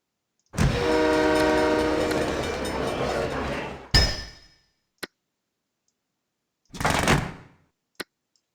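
A train pulls into a station in SimCity 3000 Unlimited, a loud rumbling passage of several seconds that fades out, followed by sharp clanks and a brief second burst of rail noise, with no voices.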